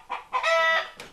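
Backyard chickens at a trailer house clucking up close: a quick burst of a few sharp clucks, one drawn-out squawk in the middle and then a short final cluck.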